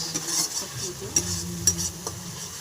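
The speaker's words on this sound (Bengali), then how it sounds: "এবার আমি আলুটা দিয়ে দিয়েছি মশলাটা তেল ছেড়ে দিয়েছে দিয়ে এবার আমি ভালো করে এটা কষে নেব" Potatoes being stirred and fried in spiced oil with cumin and ginger for a vegetarian curry, a steady close sizzle with repeated scraping strokes of a utensil against the pan and a few sharper clinks.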